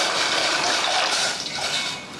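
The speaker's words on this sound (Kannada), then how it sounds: "ನಾ ಇನ್ನೊಂದು ಸ್ವಲ್ಪ ನೀರು ಹಾಕ್ಕೋತೀನಿ ನೋಡಿರಿ" Water pours in a short steady gush into a steaming pot used for boiling sweet kadubu dumplings, close and fairly loud, lasting a couple of seconds with no talk.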